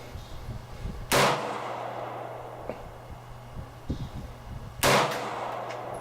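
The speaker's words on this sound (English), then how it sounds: "so I'll just go ahead and shoot it." A Boberg XR9-S pistol fires outdoors, two sharp, loud shots spaced several seconds apart with quiet wind and faint background noise between them.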